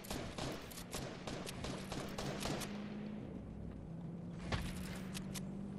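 Gunfire in the video game Fortnite: scattered, fairly distant shots popping at irregular intervals over a steady low background hum.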